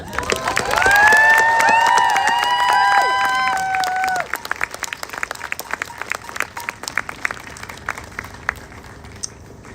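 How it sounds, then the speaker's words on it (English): A rally crowd at the U.S. Capitol breaks into applause, with cheering and whistles over the clapping in the first few seconds before it thins to scattered claps that fade out. "And I think they should get, in advance, a single round of applause."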